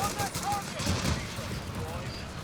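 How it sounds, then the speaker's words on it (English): A machine gun nest fires in Company of Heroes 3, its rattle blending into busy battlefield gunfire and muffled booms under steady speech. "Oh, machine gun nest."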